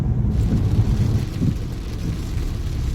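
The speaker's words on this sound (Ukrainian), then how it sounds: "дивіться, який дощ пішов" Heavy rain drums on a car while driving into town, a dense, loud, continuous low roar and wash with no one speaking.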